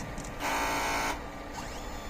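A DTF printer runs a head clean, a short steady mechanical whir that rises for about a second and then drops back to a quieter hum.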